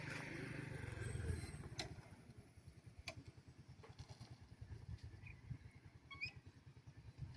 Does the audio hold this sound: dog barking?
no